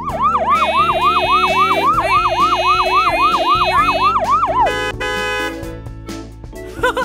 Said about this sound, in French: Ce klaxon est vraiment bruyant.